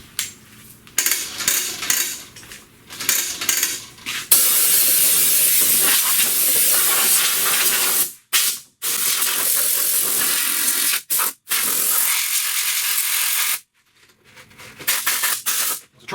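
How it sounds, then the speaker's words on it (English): Compressed air blows in loud steady hissing bursts over the charcoal element and filter parts of a 2018 Malibu intake, several long blasts separated by short pauses, close and with no talk. "I'll give that a squirt of air."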